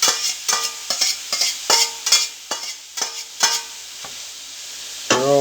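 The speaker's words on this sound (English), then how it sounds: "It's going to sizzle because of the pan already being hot" Ground beef with onions and peppers stirred in an already hot pan, giving a steady sizzle broken by repeated scraping strokes of a spoon roughly every half second, close and clear, with a louder clatter at the end.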